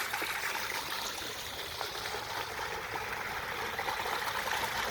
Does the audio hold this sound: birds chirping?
no